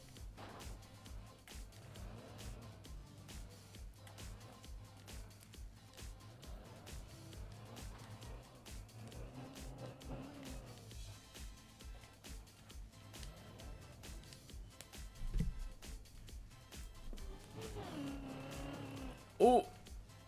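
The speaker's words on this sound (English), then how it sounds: "racing car." A video game racing car's engine drones steadily at moderate loudness throughout, with tire squeals and brief bursts of revving near the end.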